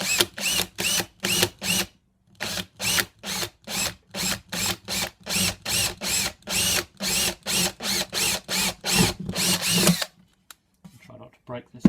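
A power drill whirs in repeated short bursts, starting and stopping in quick rhythm for about ten seconds, then falls silent with faint clicks.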